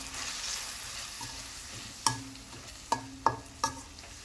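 Soft sizzling of onions, tomatoes and chilli, coriander and turmeric powders frying, with several sharp spoon clinks and scrapes against the pan as it is stirred.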